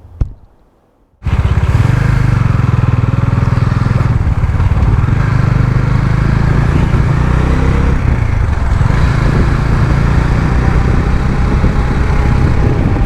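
A heavily modified Bajaj Dominar 400 motorcycle fires up after a brief near-silence, then idles and revs loudly and close with a dense, continuous engine roar through to the end.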